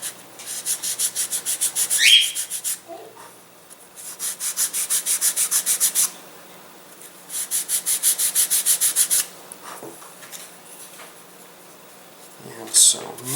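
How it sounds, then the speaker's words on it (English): Rhythmic sanding strokes rub across a very thin balsa rudder for a Protege Lite AMA catapult model glider, coming in three long bursts separated by quieter pauses, close and fairly loud, with a brief squeak near the end. "I'm just trying to sand this ridiculously thin"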